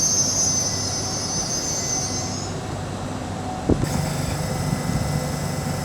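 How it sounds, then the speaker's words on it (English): An LNER Azuma train at Wakefield Westgate station on the East Coast Main Line gives a steady rolling rumble with a high wheel squeal early on, then a sharp clunk and a change in tone; it sounds close, with no voices. "801-211 is now getting ready to depart with a 1328 LNER Azuma service to London King's Cross"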